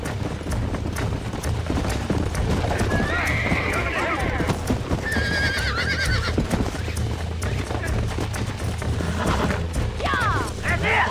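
Wild horses in the Red Dead Redemption video game, galloping hoofbeats pounding continuously with several shrill neighs and whinnies rising over the top, loud and busy, with voices talking underneath.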